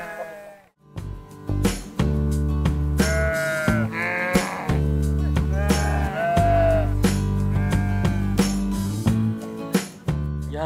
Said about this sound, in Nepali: यहाँ चाहिँ भेडाहरू चरणको लागि आउने गर्दछ